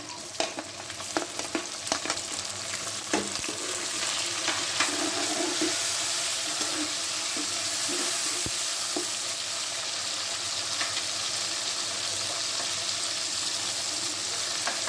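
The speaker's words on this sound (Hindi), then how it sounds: "अब टमाटर को थोड़ी देर के लिए भून लेंगे।" Tomatoes sizzle and fry steadily in a pan while dal is being cooked, a continuous dense crackle with occasional sharper pops and stirring clatter, close and even throughout with no talking.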